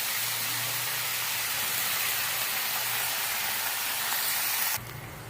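Fenugreek leaves dropped into a hot pan with asafoetida give a loud, steady sizzling hiss that runs unbroken for several seconds, then drops abruptly to a quieter fizz near the end.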